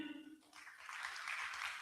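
Audience at a book launch breaks into applause for the author as he comes to the podium, a steady wash of clapping building after a brief spoken lead-in.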